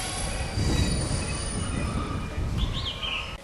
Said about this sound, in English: You can hear a diesel train pulling in on other track.